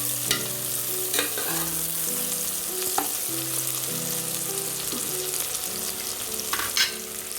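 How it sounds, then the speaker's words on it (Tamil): Crushed ginger and garlic sautéing in a pan for tomato rice, a constant sizzle broken by several sharp spatula scrapes and taps as it is stirred, close and with no talk. "இந்த இஞ்சி பூண்டை ஸ்மெல் போகிற வரைக்கும் கொஞ்சம் வதங்கட்டும்."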